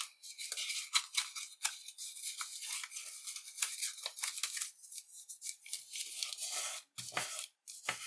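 Origami paper for a lily being folded and tucked inside itself, a dense run of close crisp crinkling, sliding and rustling strokes with brief pauses near the end.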